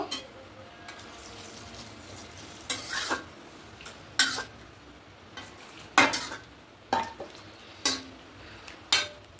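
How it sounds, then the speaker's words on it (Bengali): A spoon stirs milk curry in a pan over a soft sizzle, giving about eight sharp scraping clinks against the metal at a steady rhythm, close and clear, with no talk. "সমস্ত কিছু খুব ভালো করে মিশিয়ে নেব।"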